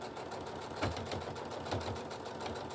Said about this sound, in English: Always backstitch.